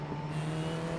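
A Formula 4 race car passes alongside on the Spa circuit, its engine a steady, fairly faint drone heard from inside a competing car, with no speech.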